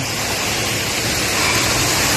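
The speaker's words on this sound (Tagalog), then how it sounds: "napakaganda na po ng ating talon" Waterfall at Paliko Falls in Indang, Cavite, a steady broadband rush of falling water that stays loud and even throughout with no talk over it.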